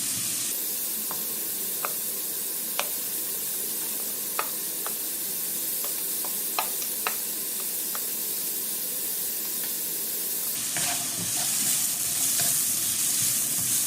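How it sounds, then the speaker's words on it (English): Chopped ginger and capsicum frying in a pan for restaurant-style fried rice, with a steady close sizzle, scattered clicks of stirring throughout and a louder hissing burst near the end, with no talk. "I'm going to go ahead and put my chopped ginger and my chopped capsicum"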